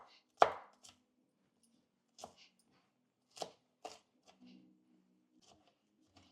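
A knife chops an onion into small pieces on a board, giving a handful of sharp, separate thuds spread unevenly through a quiet room, one stroke noticeably louder than the rest.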